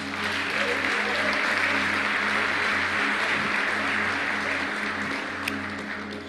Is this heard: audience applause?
yes